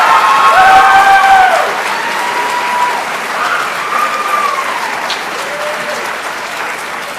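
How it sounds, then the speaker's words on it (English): An audience at a spring 2017 nurse pinning ceremony applauds the nursing graduates, loud dense clapping from a large crowd with brief tonal notes at the start, fading slightly and then holding steady to the end. "How about a round of applause for these nurses?"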